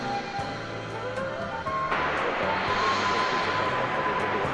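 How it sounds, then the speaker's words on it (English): Spirit Airlines Airbus A320 jet at DFW International Airport, a steady broad engine roar that swells louder partway through and holds, heard from a spotting position at moderate distance. "you're looking at Spirit Airlines Flight 268"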